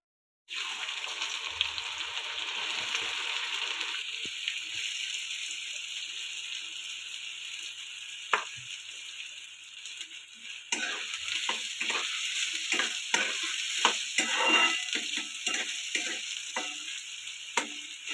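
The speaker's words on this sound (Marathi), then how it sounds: "कांदा तेलात भाजून देऊया आपण जरा कांद्याचा कलर बदलूया" Onion fries in plenty of hot oil in a pan for an egg bhurji curry, a steady hiss joined later by repeated spatula scrapes and taps against the metal.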